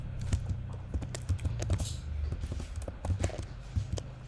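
Rapid clattering keystrokes on a computer keyboard, close and fairly loud, tapping in irregular bursts over a low steady hum, with no talking.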